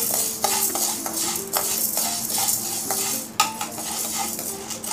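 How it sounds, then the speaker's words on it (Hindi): Chana dal roasting in a pan while a spoon stirs it, giving steady scraping and clinking over a light dry sizzle, close and continuous with no voices. "बराबर चलाते रहेंगे और इसे हल्का सा ब्राउन होने तक हम भूनेंगे"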